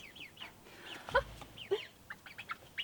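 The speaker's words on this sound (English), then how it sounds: "our sweet Buff Orpington chicks" Six-week-old Buff Orpington chicks give soft, close clucks and brief chirps, several short calls scattered over a few seconds against quiet background.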